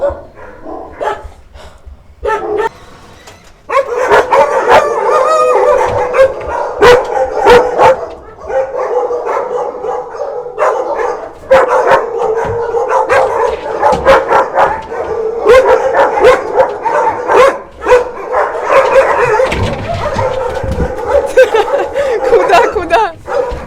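Many dogs bark, howl and yip at a shelter for homeless dogs, a dense and loud continuous chorus of overlapping voices from several animals, near and far, with occasional talk mixed in.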